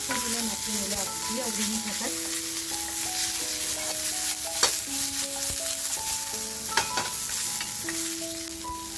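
Chopped onion frying in hot oil with garlic for a spicy clam masala, a steady bright sizzle with occasional stirring clatter and a few sharp taps, plus a faint background tune and voices.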